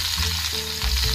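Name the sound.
garlic and chili frying in hot oil in a wok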